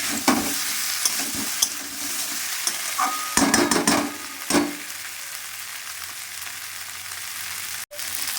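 A spoon stirs rui fish curry with cauliflower and potato in a pan over a steady sizzle, with a few distinct scraping strokes and clatters, the clearest bursts in the middle, and no talk.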